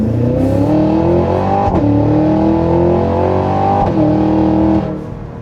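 2025 Cadillac Escalade V engine revving hard under acceleration as heard inside the cabin, with a loud, deep, sustained roar that climbs through two brief shift dips before easing off at the end; no voices.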